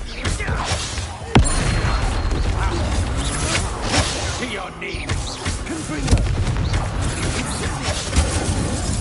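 Confringo fire spell blasts in the video game Hogwarts Legacy, with a sharp booming crack early on and continuous rumbling combat explosions and clatter, under game voices.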